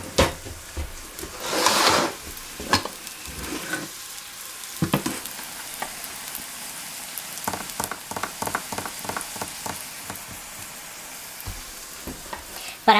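Black bean burgers fry in a pan with a continuous crackling sizzle, broken by a burst of loud spattering early on and a run of close spatula taps and scrapes, with no voices.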